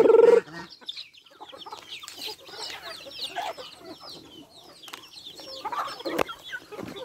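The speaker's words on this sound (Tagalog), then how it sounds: "So maingay ito si Gansa, no?" Noisy farmyard fowl, a goose among penned birds, giving repeated loud clucking and honking calls in irregular bursts, with a strong squawk at the start and scattered cries throughout.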